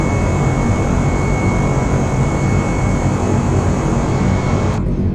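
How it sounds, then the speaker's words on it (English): Airliner jet engines in Microsoft Flight Simulator roar as a steady, loud, broadband rumble with a faint high whine, unbroken and heard from outside the aircraft, with no talking. "Let's hear the engines."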